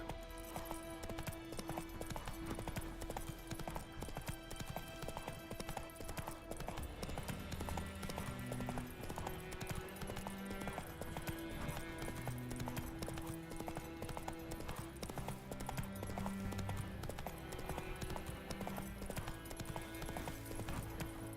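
Horse hooves clip-clopping at a gallop in The Witcher 3, a steady rhythmic beat under continuous game music and ambience.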